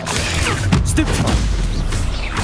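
A spell is cast in the video game Hogwarts Legacy, heard as a dense, loud magical whoosh with booming impacts, all packed into a brief burst.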